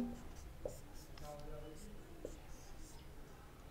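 A chemistry reaction mechanism is written out on a board, heard as faint, intermittent scratchy pen strokes in a quiet room, with a soft murmured voice barely present underneath.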